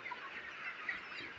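Chickens in a rain-damaged poultry shed on a farm, some of the birds sick, cluck softly and steadily at a moderate distance, with no voices over them.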